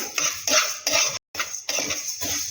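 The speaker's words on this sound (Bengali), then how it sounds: "এই জন্য ডালটা আগে একটুখানি শুকনো খোলায় ভেজে নিয়ে" Moong dal dry-roasting in a dry pan, stirred with a utensil in short rhythmic bursts of scraping and rattling, close and clear with no talk.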